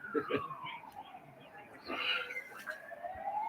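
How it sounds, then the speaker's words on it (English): A wailing siren rises and falls in the distance, fairly faint, with some background noise and a brief voice. "Siren sounds."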